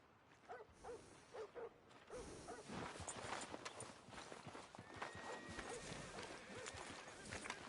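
Horse hooves clip-clop in a steady rhythm in the video game Red Dead Redemption 2, a few isolated steps first, then continuous trotting with creaks and rustling.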